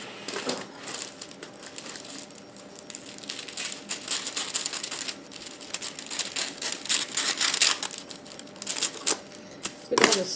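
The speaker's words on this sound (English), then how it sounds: "Use some scissors to cut it." Scissors snip and slice through a sheet of wax paper while wrapping homemade goat's milk butter, producing a steady run of close, crisp crinkling cuts with a sharper rustle near the end.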